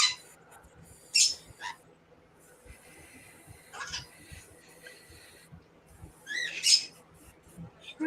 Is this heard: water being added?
no